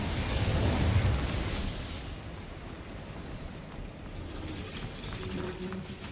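Incendio fire spell blast in Hogwarts Legacy, a loud roaring burst at the start that fades into a rumbling fiery hiss.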